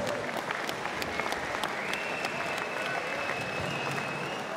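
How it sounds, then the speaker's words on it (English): Crowd applause at a middleweight Muay Thai main event, a continuous dense roar of clapping from a large audience, steady and moderately loud, with cheering voices mixed in. "a massive round of applause for these two main event combat warriors"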